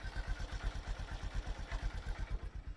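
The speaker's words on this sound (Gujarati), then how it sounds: "એકદમ સ્લો નોઈસ છે એન્જિનનો" A motorcycle engine idles low and even, with a rapid steady thumping pulse, fairly quiet and close.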